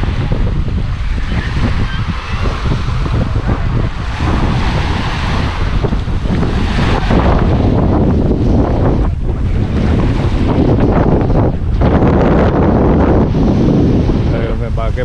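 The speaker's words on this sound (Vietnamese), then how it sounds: "mình thấy là sóng nó mạnh hơn" Strong sea waves surge onto a beach on Phi Phi Island in Thailand, with a continuous loud wash of surf and heavy wind buffeting the microphone throughout, with no break.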